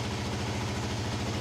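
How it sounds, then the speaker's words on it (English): Honda NX250 motorcycle engine idling, a steady low, even rumble with no change in speed. "the cooling fan switched on automatically after the bike had been idling for some time"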